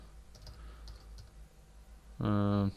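A few soft keyboard keystrokes click faintly and sparsely in a quiet room, then a loud, steady electronic tone cuts in briefly.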